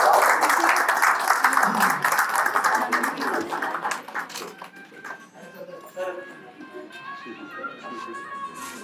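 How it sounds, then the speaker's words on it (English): An audience at a press conference honouring a rescuer breaks into loud applause, which thins out after a few seconds while voices and crowd noise continue. "We have more big applause."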